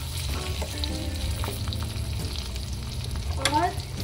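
Long-cut ginger and green chillies sizzling steadily in a hot pan for shahi paneer, with light stirring clinks over the continuous frying.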